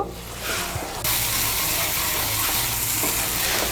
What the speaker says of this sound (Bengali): টক দইটাকে মিশিয়ে নেব ভালো করে। মিশিয়ে নিয়ে মশলাটাকে আরেকটু ভালো করে কষিয়ে নেব।